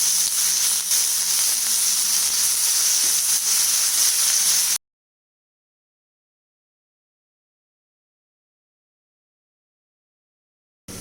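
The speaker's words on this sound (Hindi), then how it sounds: "चिकन डाल देते हैं। फ्लेम मैंने मीडियम कर दी है और 2-3 मिनट को ऐसे ही भून लेते हैं पहले प्याज के साथ।" Chicken sizzles with onions in a pan over a medium flame for a samosa filling, a steady loud hiss and crackle for about five seconds before cutting to silence.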